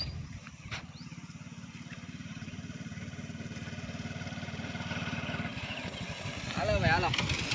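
A motorbike rumbling past on a hot rural road near a hillside temple, a low steady engine drone that swells louder toward the end as it draws closer, with faint background noise.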